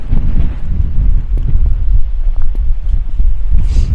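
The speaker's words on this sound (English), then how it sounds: "The wind picks up again." Wind gusting across the Tablelands mountain trail in Newfoundland, a loud low buffeting rumble on the microphone with faint scattered clicks and rustles, no voices.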